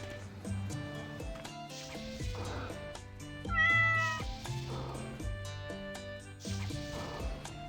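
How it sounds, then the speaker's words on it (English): A cartoonish cat meow sound effect triggered in a Hello Kitty Island Adventure stream, a clear mewing call rising over soft background music at moderate volume. "I love the cat sound effects."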